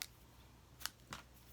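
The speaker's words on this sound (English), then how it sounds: "fabric scissors." Fabric scissors handled and snipping ribbon at a crafting table, a few quiet, brief metallic clicks and cuts spaced apart, close by and faint.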